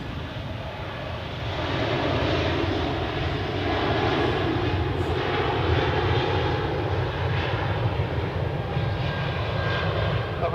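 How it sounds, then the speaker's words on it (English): An Air France airliner takes off at Zurich Airport, its engines giving a steady, powerful roar that swells slightly and holds, heard from some distance with no talk over it. "But first, takeoff for Air France."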